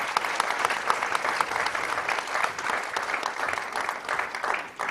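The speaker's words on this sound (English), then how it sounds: "can we all have a round of applause for our great panelists here?" An audience applauds panelists at a global food regulators summit, a steady, dense wash of clapping from many hands that carries on at an even level throughout, with no voices rising above it.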